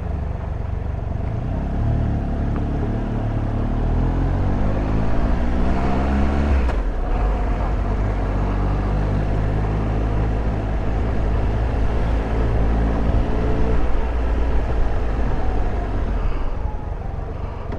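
Steady road traffic and engine drone on a coastal road in Snowdonia, ridden on a Triumph Tiger Explorer motorcycle, with a continuous rumble and passing vehicles rising and fading over about eighteen seconds.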